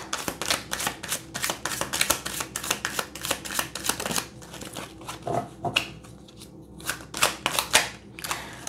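A deck of tarot cards is shuffled by hand, giving rapid rhythmic riffling and slapping bursts that run continuously, close and fairly loud, with a brief slower patch before quickening again.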